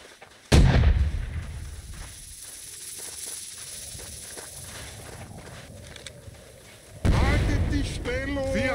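Musket team fire in the Holdfast: Nations At War video game: two loud, booming volleys several seconds apart over a low battlefield rumble, with a voice talking during the second blast.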